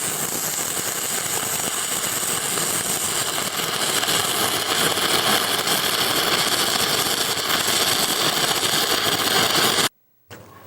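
Stick welding with a 6013 rod, a loud continuous crackling, sizzling arc hiss held steady for about ten seconds before cutting off abruptly, then a brief resumption at the very end.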